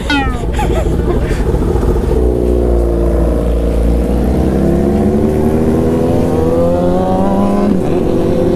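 Several motorcycles with loud exhaust riding fast toward a traffic circle, engines roaring close and loud with rising and falling revs as they pass, a brief voice under the noise.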